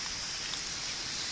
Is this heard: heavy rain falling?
yes